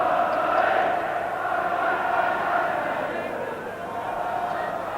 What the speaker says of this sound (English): Crowd are chanting for Barry Venison because he hasn't played in the first team for nearly 10 months